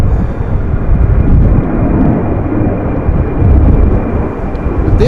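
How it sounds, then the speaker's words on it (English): Embraer airliner on a storm go-around at Amsterdam Schiphol, a loud, continuous low engine roar mixed with heavy wind rumble that swells and eases over several seconds. "This is the second go around, if I'm not mistaken, of the same Embraer."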